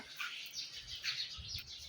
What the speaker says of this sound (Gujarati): મસ્ત મજાના ચકલા રહે છે આ બધામાં